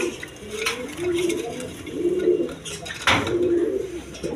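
Giribaz pigeons coo in soft, repeated low calls close by, with a few sharp clinks and rustles mixed in.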